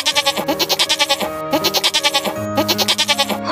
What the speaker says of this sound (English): Sheep are important farm animals.